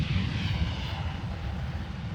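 Heavy airplane taking off from an airfield runway, a steady low engine rumble with a broad hiss above it, fairly distant and even in level, with no talk.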